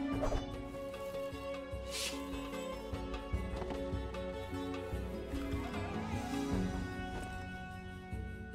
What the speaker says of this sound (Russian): это мой конь, да?